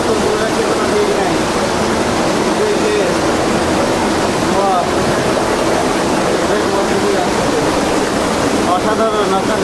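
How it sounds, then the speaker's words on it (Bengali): Water pouring down from above inside Robber's Cave (Gucchu Pani), a narrow rock gorge near Dehradun, a steady broadband rush that fills the whole stretch without pause, close and loud. "এখান থেকে উপর থেকে জলটা পড়ছে।"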